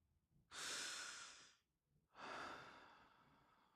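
A person takes two long, deep breaths close by, each a loud airy inhale or exhale lasting about a second, separated by a short pause, with no talking.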